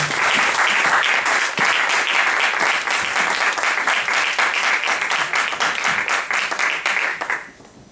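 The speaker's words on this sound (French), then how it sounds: "peut acclamer très fort pour la gloire de Dieu" A church congregation applauds loudly, a dense and sustained wash of many hands clapping close by that carries on strongly before fading away at the end.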